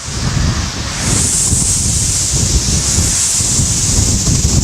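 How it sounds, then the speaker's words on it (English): Strong outdoor wind blows hard against the microphone in a loud, constant roaring rush, with a rustling texture and no talking. "the wind's blowing so hard"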